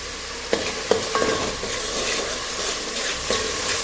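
Whole cloves, black peppercorns, bay leaf and cinnamon drop into hot oil in a frying pan, giving a steady close sizzle with a few small clicks and taps of spices hitting the pan.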